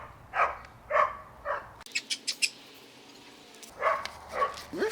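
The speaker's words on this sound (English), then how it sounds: "Neighborhood doggos." Neighborhood dogs bark in a quick burst of four sharp yaps at moderate distance, with a voice talking before and after.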